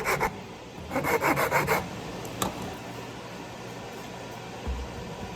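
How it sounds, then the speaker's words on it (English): Wood rasp filing a wooden tenon on a bar stool leg, a quick burst of rhythmic scraping strokes, then a pause and a single stroke, close and fairly loud. "file down your tenon to make sure that all of your legs fit nice and tight"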